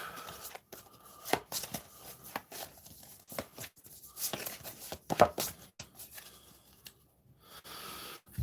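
A deck of cards being shuffled by hand at a tabletop card game, giving quiet riffles and soft slaps in irregular bursts, close and faint.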